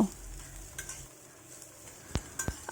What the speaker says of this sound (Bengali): যতক্ষণ না ভাজা হবে ততক্ষণ আমি নাড়তে থাকব